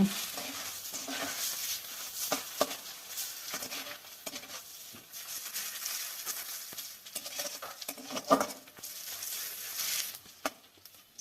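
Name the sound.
onion frying and being stirred in pan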